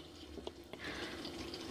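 Water is poured from a glass into a pot of rice for biryani, giving a short steady splashing fill after a couple of faint knocks.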